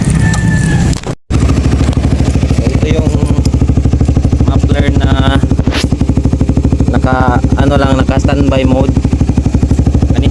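A Suzuki Raider motorcycle fitted with a new Apido pipe exhaust idles nearby with a loud, steady, throbbing engine rumble, briefly cutting out before restarting, while someone talks over it throughout.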